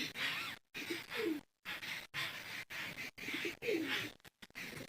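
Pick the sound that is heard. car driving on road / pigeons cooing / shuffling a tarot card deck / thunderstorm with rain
pigeons cooing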